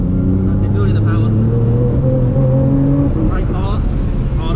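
Nissan GTR engine roaring hard from inside the car on a drift track, rising tones stepping up through the revs, loud and continuous with a coaching voice talking over it.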